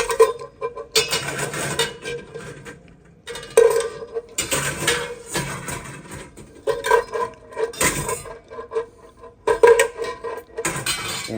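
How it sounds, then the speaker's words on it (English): Cooled boiled eggs clatter back into a pot, a series of sharp close clinks and knocks of shell against metal separated by short pauses. "let's put these eggs back in the pot"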